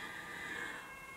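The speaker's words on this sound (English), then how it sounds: "Sorry about the sirens in the background" Emergency vehicle siren wailing steadily in the background, faint and distant, a continuous tone held through the whole short stretch with no talk over it.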